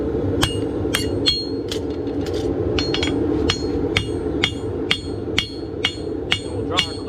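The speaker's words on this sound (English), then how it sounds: "We're using the heel of the hammer." A farrier's hammer rings in a steady series of about fourteen sharp, evenly spaced metallic strikes, using the heel of the hammer to draw out a clip on a steel horseshoe for a 17.1-hand Dutch Warmblood eventing horse, with no voices.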